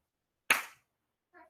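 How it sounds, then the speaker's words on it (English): A single sharp hand clap, then a second softer one after a pause, sounding like slow, sarcastic applause in a quiet room. "Now that's a little sarcastic applause, isn't it?"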